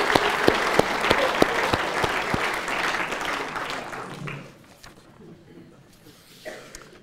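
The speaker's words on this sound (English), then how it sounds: "Let us, on our term, warmly applaud Per Henrik Vinus to this conference in Oxford" Conference audience in Oxford applauding a keynote speaker, steady dense clapping that fades out after about four seconds, leaving a quiet room with a few scattered claps.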